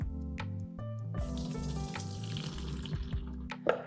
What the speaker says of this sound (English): let's bust this can open. I'm gonna drain off the water